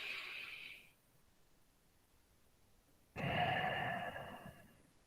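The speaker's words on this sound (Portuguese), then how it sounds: "faça uma respiração leve e profunda" Slow, deep breaths during a guided relaxation meditation: a soft breath fades out, a pause follows, then a long, fuller exhale rises close and clear, with no talking.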